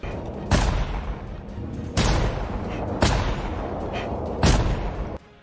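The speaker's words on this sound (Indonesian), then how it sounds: "langsung menembakkan beberapa tembakan ke arah tumpukan limbah" Four heavy gunshots from a film, aimed at a waste pile, spaced a second or so apart, booming and loud with a rumbling tail after each blast.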